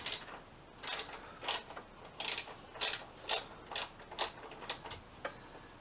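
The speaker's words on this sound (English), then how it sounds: "I just need to loosen these bolts off" A ratchet wrench clicks in about ten short bursts of rapid ticks, loosening bolts on a 2007 Suzuki GSX-R 750 motorcycle during a rebuild, close and clear with no talk.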